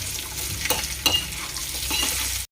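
Okra fry gets stirred in a frying pan after coriander powder goes in: a steady sizzle under a few scraping strokes of the spoon, close and fairly loud.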